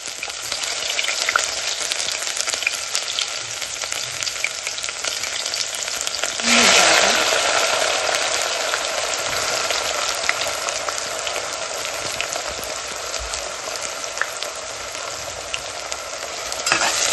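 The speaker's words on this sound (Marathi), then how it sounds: "तर असा बारीक कांदा कट करून टाकून घेते." Finely chopped onion fries in oil in a pot, giving a loud, continuous crackling sizzle that swells as more goes in partway through, with stirring throughout and no voices.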